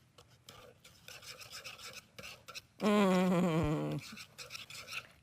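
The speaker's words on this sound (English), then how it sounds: "I'm going to whisk that together" A metal whisk scrapes through melting brownie mixture in a hard-anodized, non-nonstick pan, making rapid rasping strokes and a loud, wavering metallic squeal in the middle, with one brief spoken word.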